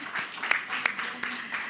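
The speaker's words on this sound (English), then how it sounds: "And I would love if you could join me in giving her a round of applause." A few scattered claps at a government post-cabinet press briefing, sparse and uneven, with separate sharp hand claps standing out from a quiet room.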